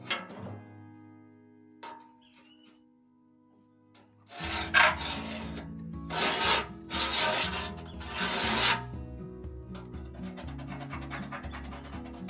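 A marking line is scribed across metal for a portable wood stove, producing a few loud scraping strokes in close succession after a quieter, humming start, then lighter scratching at the end.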